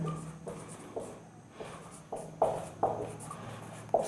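A pen writing on paper while a class 10 maths substitution problem is worked through, giving scratchy strokes in short, fairly regular bursts, close and clear with no talking.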